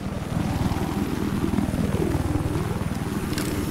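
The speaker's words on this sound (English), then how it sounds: "Enemy helicopter. Right above you." A low, steady rotor chop from an enemy helicopter passing overhead in Battlefield 4 holds at a constant loud level for the whole stretch, with no voices over it.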